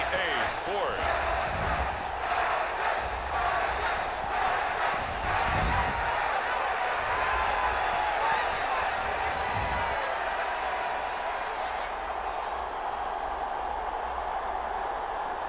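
Stadium crowd roaring and cheering at SoFi Stadium in Inglewood, California, during an NFL game in Madden 23, a dense continuous wash of noise with announcer-style talk over it.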